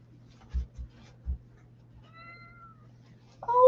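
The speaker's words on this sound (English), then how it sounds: "I hear a kitty cat crying." A house cat cries out with a short, close, fairly loud meow near the end, preceded by a few soft knocks and a faint higher call; no one speaks.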